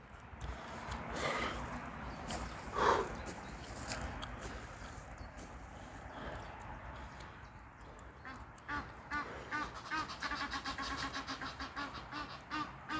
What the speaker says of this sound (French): il y a du canard là